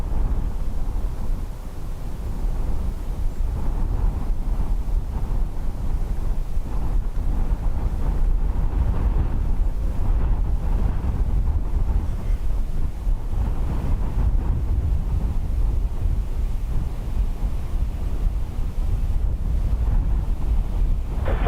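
Strong wind of about 32 knots buffets the microphone at Dublin Airport, a constant loud roar and rumble with gusty surges lasting the whole time and no other sounds standing out.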